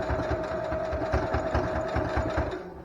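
A sewing machine runs steadily as it stitches back and forth several times over elastic along the edge of a reusable fabric face mask, a continuous close mechanical whirr with a fast needle rhythm and no talking.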